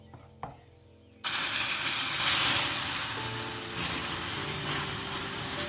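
Water poured into hot sugar caramelizing to golden brown for a Sri Lankan ada cake: a sharp onset into a loud, steady, broadband hiss of steam that holds for several seconds, close up.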